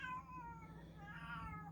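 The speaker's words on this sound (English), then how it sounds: "that's my cat in heat" A cat in heat gives long, drawn-out meows, faint and held steady over a constant low hum, rising slightly toward the end.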